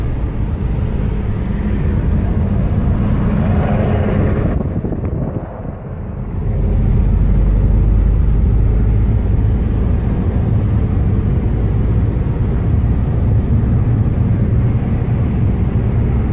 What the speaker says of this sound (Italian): sentite il rumore degli elicotteri